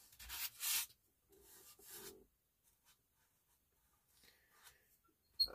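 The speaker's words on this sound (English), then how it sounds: "Let's just sand it down and see what." Sanding the cabinet of a 1940s Motorola table radio: a few short, close, scratchy rubbing strokes with quiet pauses between them.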